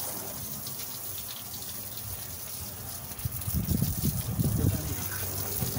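Water from a hose sprays over a car during a wash, a steady hiss that swells into louder gushing splashes partway through, with people talking nearby.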